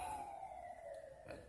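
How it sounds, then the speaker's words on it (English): Faint emergency-vehicle siren on a city street, a steady wailing tone drifting in from a distance with no voices over it. "excuse the siren"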